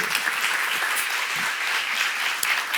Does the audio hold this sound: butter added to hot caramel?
no